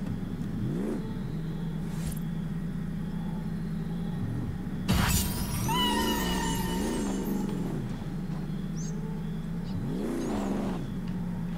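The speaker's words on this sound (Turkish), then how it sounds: "Altımda da Toyota Tundra var." A Toyota Tundra pickup driven in Forza Horizon 5, its engine rising and falling through repeated revs and gear changes, with a loud crash or impact partway through, steady and close with no talk.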